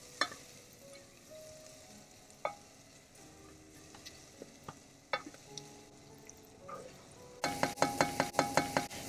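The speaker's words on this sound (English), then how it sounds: "Once that butter is nice and sizzling, we're going to take our onions here and add them." Onions sizzle quietly in butter in a pan with scattered ticks and clinks, then a louder burst of frying and stirring sounds near the end.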